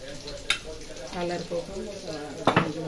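Pigeon peas frying in a pan as a pinch of turmeric is stirred in, with a steady sizzle, two sharp scrapes of a spoon against the pan, and a voice talking over it.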